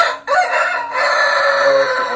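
A rooster on a fighting-chicken farm crows once, loud and close, in a single drawn-out call that starts after a short pause and holds steady for nearly two seconds.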